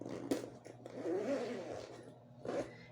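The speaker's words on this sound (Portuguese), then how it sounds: "Fecha o zíper." A zipper being pulled shut on a handmade crossbody bag, several short rasping strokes up close, with no one talking.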